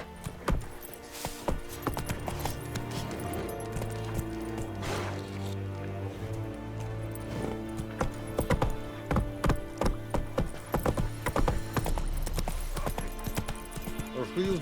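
Roach the horse from The Witcher 3 gallops in a steady clip-clop of hooves, loud and close, over game music, with voices speaking briefly.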